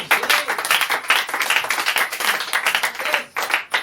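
A church congregation claps vigorously and acclaims during a worship service. The dense, loud applause has fast overlapping claps and continues steadily, with brief swells, for several seconds.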